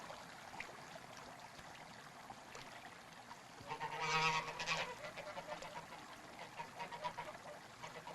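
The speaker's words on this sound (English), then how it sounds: "And there were geese." Geese honk in a faint outdoor scene, a cluster of loud nasal calls rising in the middle and trailing off into scattered further honks against quiet natural background noise.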